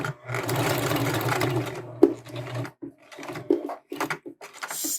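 A sewing machine stitches through a quilt in steady whirring bursts, stopping and restarting with short pauses and clicks as the fabric is turned, close and clear without talk.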